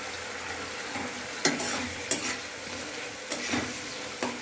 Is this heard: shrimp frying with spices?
yes